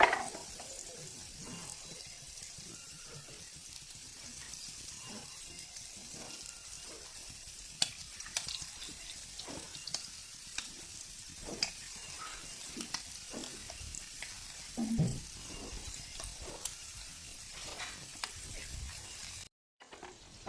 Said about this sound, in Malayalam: ഇനി ഇത് ഒരു വശം ഫ്രൈ ആയതിന് ശേഷം നമുക്ക് മറുവശം മറിച്ചിടാം.